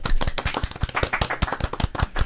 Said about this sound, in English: Little applause, please.